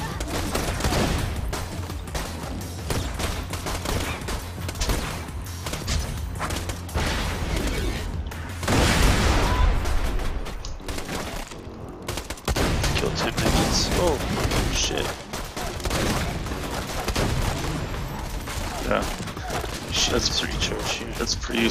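Gunfire in a Borderlands 2 firefight, bursts of shots and booms crackling throughout, loud and dense, with a heavier blast near the middle and game sounds mixed in under talk.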